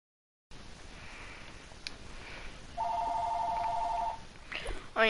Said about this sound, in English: Are you answering that phone?